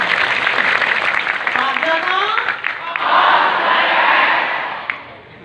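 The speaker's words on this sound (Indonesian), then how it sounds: "Tepuk tangan dulu dong buat Pak Jono." A crowd at a gathering with the Jember regent claps and cheers for Pak Jono, with shouts and rising whoops over brisk applause that swells and then fades.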